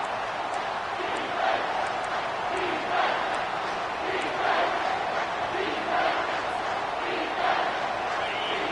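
A stadium crowd roaring in the College Football 25 video game, a broad sustained din of cheering and chanting that swells in waves, loud and continuous throughout.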